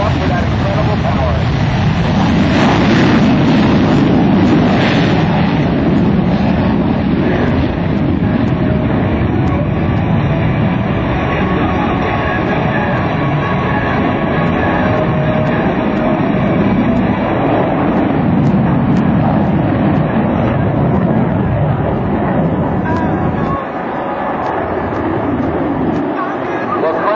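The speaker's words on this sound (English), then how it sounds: "Now here's the touch and go, no tail hook here, throttles go forward and right back up for that incredible power." An F/A-18F Super Hornet's twin jet engines roar continuously at full throttle during a touch-and-go at an air show demonstration, a loud, sustained, broadband thunder that barely wavers, with an announcer talking over it.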